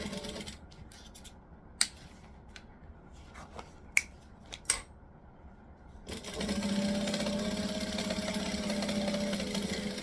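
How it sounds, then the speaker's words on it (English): Sewing machine stitching vinyl for a bag lining: a few sharp clicks and taps at first, then the motor whirs steadily in a continuous moderate hum for several seconds. "make sure that the vinyl doesn't stretch while you're sewing"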